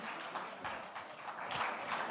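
A studio audience applauds Jaya Kishori at a live television event, a continuous dense wash of many hands clapping at a steady level that swells slightly toward the end.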